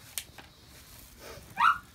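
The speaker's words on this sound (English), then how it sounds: "barking in the background" A dog indoors gives a single short bark in the background near the end, after a couple of soft faint sounds, against a quiet room.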